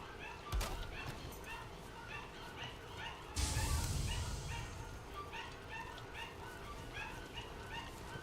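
Several dogs bark and yip in a home while a person plays a video game, with repeated sharp barks near and far over the whole stretch and a louder burst partway through, mixed with faint game sounds and light talk.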